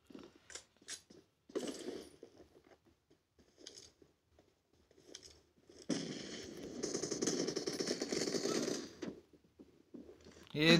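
Rifle shots from a Win94 lever-action in a mobile battle-royale shooter, sharp sporadic cracks early on, then a dense stretch of rapid gunfire and clatter mid-clip, with a final loud shot at the end.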